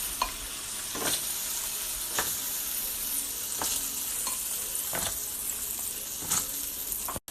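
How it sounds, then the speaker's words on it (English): Shrimp sizzling in butter with garlic, parsley and lemon juice in a pan for spring linguine, a loud continuous close frying hiss broken by repeated stirring scrapes about once a second, with no voices. "we're gonna send our shrimp back for a swim"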